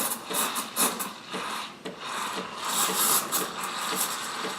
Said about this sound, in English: This time right now is when we're stretching the milk and giving it that nice microfoam